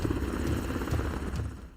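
A damaged helicopter flying with engine trouble near a mountain peak in a film scene, a loud, steady rotor thump and engine drone that fades slightly at the end.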